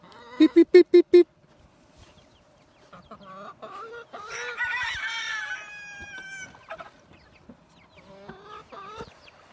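Chickens around a chicken tractor on a spring day: a loud burst of rapid repeated calls opens, then clucking and a drawn-out crow rise midway, with scattered softer clucks and a person's voice nearby.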